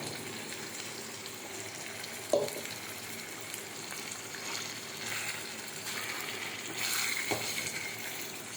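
A spiced paste sizzles and fries in hot ghee in a pan, a steady soft crackle with a couple of sharp stirring clinks, heard alone without talk.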